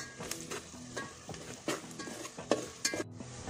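Red chili powder and Malvani masala roast in a pan for Malvani chicken, with a spoon scraping and stirring in repeated strokes over a soft sizzle and a few sharp metallic clinks against the pan.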